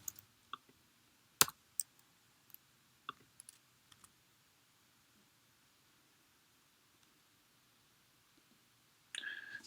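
Sparse computer mouse clicks tap out near and quiet, a few scattered sharp ticks, one louder, then a long near-silent stretch before a short rustle at the end.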